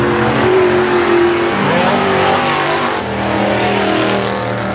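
Race cars running on a track during a main event with spinouts, a loud continuous engine roar with droning tones and no break.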